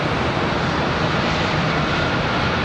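A heavy jet airliner at Charlotte Douglas International Airport makes a loud, continuous broadband engine roar that stays close and steady with no other sounds.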